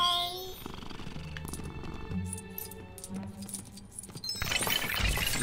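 In LEGO Harry Potter Years 5-7, a cat purrs softly and steadily under layered game music and ambience, and a louder burst of game sound rises near the end.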